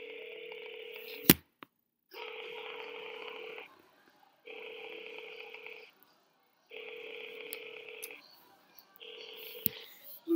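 Phone dialing tones from a call being placed, repeated long beeps with short silent gaps between them, near and clear, with a sharp click early on.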